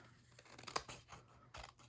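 Scissors snip along the curved edge of a paper envelope with a few quiet crisp cuts and rustles, close and soft, with no talking.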